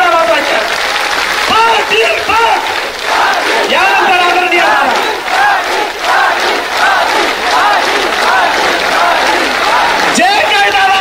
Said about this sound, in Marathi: आपण जोरदार टाळ्यांनी दादांचं स्वागत करायचं आहे